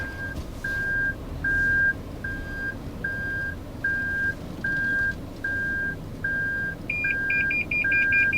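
A car's reversing alarm beeps steadily at a clear, even pace, roughly a dozen evenly spaced tones over road and engine noise, and near the end a faster, higher double-beep pattern joins in.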